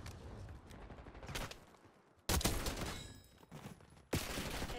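Gunfire in Call of Duty Black Ops 6, sharp bursts of automatic fire arriving in separate volleys with short lulls between, loud and close.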